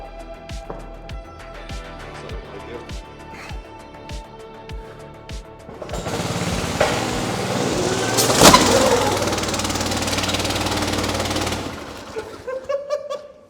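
A homemade drift kart's engine catches after some clicking and tapping, then roars loudly and steadily for several seconds before cutting back to sputters as the kart drives off.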